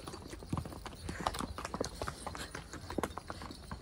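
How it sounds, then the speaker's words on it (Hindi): Horses' hooves climb a rocky mountain trail at Kufri near Shimla, an uneven run of sharp clip-clop strikes close by over a faint outdoor background. "भाई घोड़े से पहाड़ों पे घोड़े चढ़ रहे हैं भाई।"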